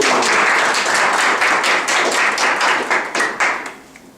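Audience clapping at a blogger reporter group lecture, a dense steady round of applause from many hands that thins out and fades toward the end.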